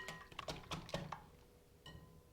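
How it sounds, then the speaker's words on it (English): A whisk clinks quickly against a bowl as eggs are beaten with nutmeg, salt, basil and black pepper for a strata, a faint cluster of light metallic taps with a pause before a final few strokes. "We whisk this together."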